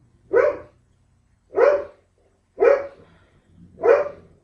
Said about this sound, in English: Sorry for you listening to my dogs bark.